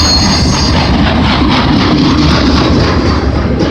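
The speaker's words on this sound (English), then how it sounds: "This train originates from Sarnia, Ontario, and it's coming into here at the London East Yard where it terminates." CN freight train arriving at London East Yard in Ontario in February, a loud, close, continuous rumble of rolling cars with grinding wheel noise and faint squeal, no voices.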